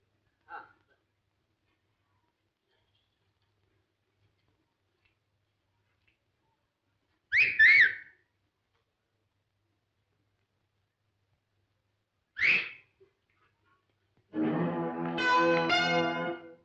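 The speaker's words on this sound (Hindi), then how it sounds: "अबे गंगू सीटी बजा रही है।" A whistle blown in a 1972 Hindi film scene: two short, shrill blasts separated by long silence, then a longer tonal burst at the end.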